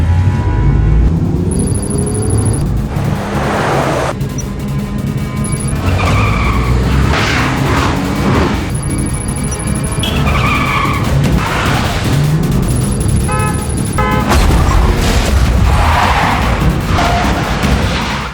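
A car skids with loud, drawn-out tire squeals and then strikes a man in a film scene, with thuds and engine roar up close that keep going as the skidding repeats, and no talk over it.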